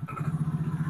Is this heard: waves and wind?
no